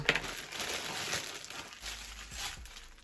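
Soft plastic crinkles and rustles as a Ukrposhta postal parcel bag is handled and torn open, quiet and close, with no talking.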